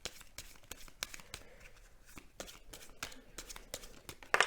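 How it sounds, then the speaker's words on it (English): Star seed oracle cards being quickly shuffled by hand, a series of soft papery riffles and taps across a few seconds, close and quiet, with a sharper flick near the end. "I'm going to just quickly shuffle so I just get the one."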